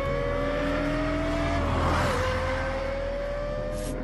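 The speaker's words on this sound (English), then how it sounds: "Only a high-revving V10 engine supplies this combination of power and sound." A Lexus LFA's high-revving V10 engine screams up through the revs, its rising whine climbing steadily and then dipping as it shifts, loud and close with no voices over it.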